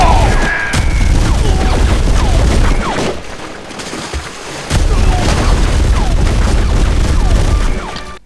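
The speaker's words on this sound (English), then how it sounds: "the MG42 has a rechambered modern equivalent that's identical to the old one, although it sounds way weaker than in the original movie" An MG42 machine gun fires in a film scene, a loud, dense roaring burst that breaks off briefly and then resumes, mixed with booming impacts.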